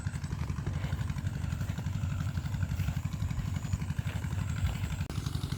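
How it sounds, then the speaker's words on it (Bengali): A laser land leveler machine running out in a field, its engine thudding in a rapid, steady low chug with light clatter, close and continuous with no voices. "সামনে মেশিন চলতেছে লাইজার মেশিন ওখানে যাবো"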